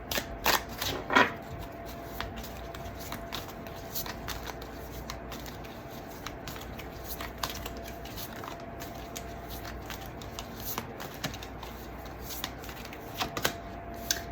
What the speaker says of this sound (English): First thing I'm going to do is pull some cards